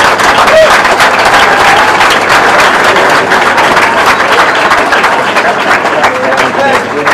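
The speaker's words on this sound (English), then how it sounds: "Please keep clapping for Brother Glenn" Applause from a town hall audience after a blockchain presentation, a steady dense wash of clapping filling the room for several seconds, loud and continuous.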